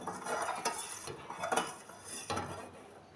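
Ingredients for a quick sweet are mixed in a bowl, a spoon scraping and clinking against the sides in short uneven strokes, close and soft with no talking.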